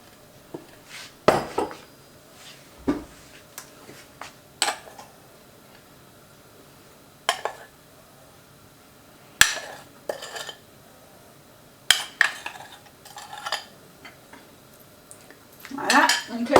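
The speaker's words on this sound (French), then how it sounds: "on pose des cuillères jusqu'à ce qu'il n'y a plus de pâte" A spoon drops pancake batter into a pan for soufflé pancakes, with scattered clinks and taps of utensil on the pan and a few louder knocks spread irregularly across the stretch, close up.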